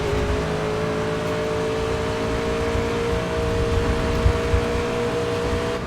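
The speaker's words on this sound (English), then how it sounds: "hear essentially the engine sound of the car" Race car engine in TOCA Race Driver 3 on the first lap at Phillip Island, a steady loud droning whine with sustained harmonic tones and a few small surges, alone and without talk.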